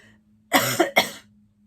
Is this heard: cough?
yes